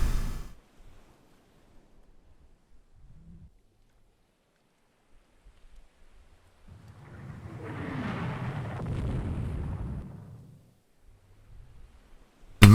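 Naval gunfire in the warship game Rule the Waves 2, a single broad rumbling boom that swells and rolls for a few seconds, heard alone after a quiet stretch.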